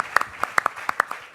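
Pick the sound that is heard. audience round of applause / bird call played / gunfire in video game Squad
audience round of applause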